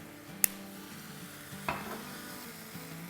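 About two teaspoons of sesame oil stirred into cooked mince in a pan, a low hum of frying under two sharp clinks of a spoon against the pan and a brief scrape, close and without speech.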